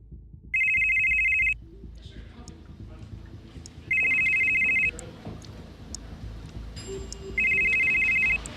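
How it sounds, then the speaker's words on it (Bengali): A mobile phone rings during an outgoing call in a suspense audio drama, sounding three evenly spaced bright electronic trills, each about a second long, with quieter low background sound in the gaps. "কিছুটা দূর এসে জামার পকেট থেকে ফোনটা বার করে অধীরথকে ফোন করে।"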